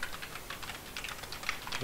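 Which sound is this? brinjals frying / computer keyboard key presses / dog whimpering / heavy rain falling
computer keyboard key presses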